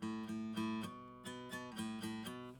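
Acoustic guitar chords with pointer-finger hammer-ons, the notes picked in a quick repeating pattern, each chord ringing with small pitch shifts as the finger lands, played close and softly with no voice over it.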